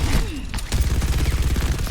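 Rapid gunfire in Overwatch rattles off in a quick regular burst of close, punchy shots after a few sharper hits at the start, with game effects mixed underneath.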